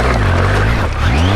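Honda Africa Twin motorcycle engine on an off-road climb, a steady loud low rumble near the mic that dips briefly and then rises in pitch as the clutch is let out.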